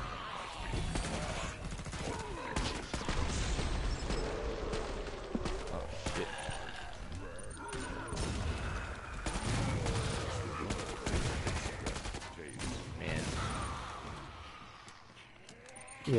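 Shotgun gunfire in the video game Killing Floor 2, repeated heavy blasts mixed with monster growls and chaotic combat noise over a sustained fight, with players talking throughout.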